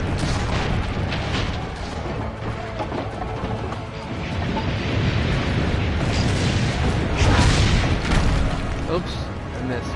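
Cannon fire in the video game Assassin's Creed Brotherhood, rendered as a continuous rumble of booms and blasts that swell louder near the end, thick and dense throughout with no clear gaps.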